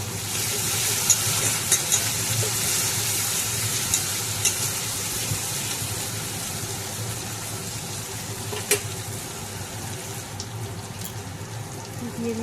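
Chopped tomato sizzles steadily in a pan for a fish curry, with occasional scrapes and clicks of stirring over a continuous hiss, close and fairly loud, no talk.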